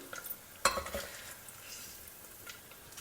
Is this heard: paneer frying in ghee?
yes